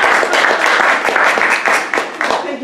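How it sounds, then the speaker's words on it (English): An audience at a talk gives a short round of applause, steady close clapping for under three seconds that fades slightly toward the end. "let me get a round of applause."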